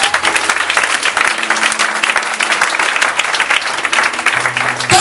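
A church congregation applauds loudly and steadily throughout, dense clapping from many hands filling the space, with faint murmurs under it.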